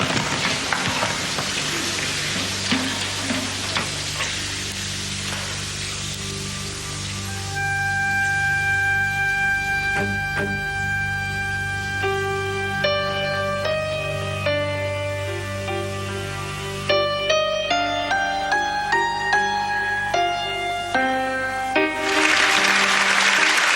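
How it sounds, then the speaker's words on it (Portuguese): Long, sustained applause from a theatre audience greeting Holocaust rescuer Nicholas Winton, a dense steady wash of clapping that swells partway through while soft music notes rise over it. "O agradecimento vem em forma de aplausos demorados e lágrimas."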